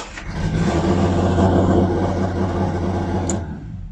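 A Volkswagen Corrado VR6 Turbo engine idles steadily at a too-high idle speed, a close, continuous mid-pitched drone with a faint click near the end before it cuts away.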